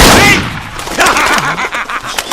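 A sharp burst at the start followed by a run of rapid, crackling reports and distant-sounding pops, like a volley of gunshots in a busy comedy film scene.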